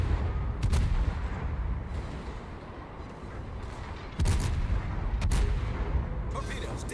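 Naval cruiser secondary battery guns in a sea battle game, repeated heavy booming salvos with sharp cracks at irregular intervals, loud and close, with voices talking over the barrage.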